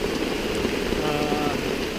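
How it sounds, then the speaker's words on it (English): Light rain, blown sideways, patters steadily at a forest campsite on the Pinhoti Trail near McDill Overlook, forming a dense continuous hiss close by with no pauses. "But we're getting a wee bit of rain, just a little bit. It's coming in sideways."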